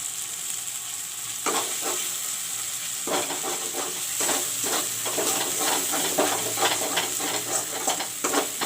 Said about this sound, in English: And fry the masala.